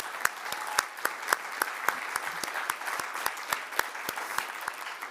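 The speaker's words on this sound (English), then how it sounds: "Please, a round of applause." Audience at a coalitions and economy event clapping in a steady, sustained round that lasts several seconds, with sharp individual claps standing out from the dense wash of hands.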